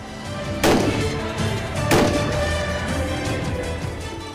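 Two sharp rifle shots ring out about a second apart at a shooting range over a loud, rumbling background, each crack echoing briefly.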